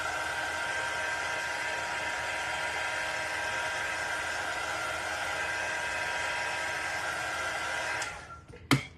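A heat tool blows a steady, loud whoosh while drying paint on a Halloween cow sign, holding constant for about eight seconds before cutting off with a brief clatter.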